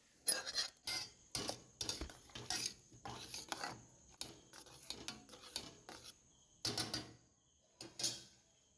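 Grated bottle gourd is stirred into hot milk in a pot with a spoon, producing intermittent scraping and clinking strokes against the metal, close and fairly quiet with pauses between.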